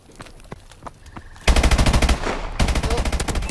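Gunfire in the video game Call of Duty Advanced Warfare: a faint patter of shots, then two loud rapid automatic bursts up close, each a tight string of shots, with no talk.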